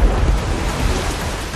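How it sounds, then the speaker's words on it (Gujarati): Heavy monsoon rain pours steadily in Amreli, Gujarat, near the overflowing Willingdon dam, with low rumbling thunder rolling through a dense, continuous roar; no voices. "અમરેલીમાં ધોધમાર વરસાદ વરસી રહ્યો છે"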